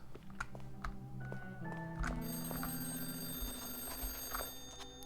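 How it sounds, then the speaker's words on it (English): An electronic telephone ring with bright, steady tones sounds in the game Lorelei and the Laser Eyes over game music and clicking effects, continuing for several seconds with no voices. "The phone is ringing."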